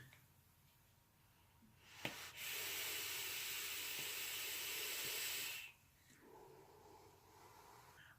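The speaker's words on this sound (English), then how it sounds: "Let's have a vape, shall we?" A Rebirth RDA's single 0.22-ohm coil fires at 73 watts on a Steam Crave Titan PWM mod with the airflow wide open, giving a loud, steady airy hiss for about three seconds before it cuts off.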